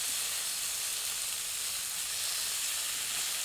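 Chicken pieces frying on high heat in a pan for Guntur chicken masala, a loud, continuous hissing sizzle with steam, close and unbroken throughout.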